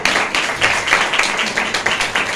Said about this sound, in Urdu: آپ اپنی اس محبت کے لیے، خدمت کے لیے زوردار تالیاں لگائیں جتنے لوگ یہاں موجود ہیں